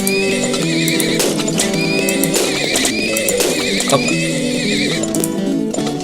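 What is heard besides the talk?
horses neighing in the video game Turmoil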